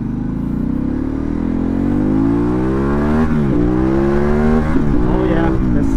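Harley-Davidson Pan America 1250 motorcycle accelerating hard in road mode, a loud close engine roar rising steadily in pitch through the gears with brief dips at each shift.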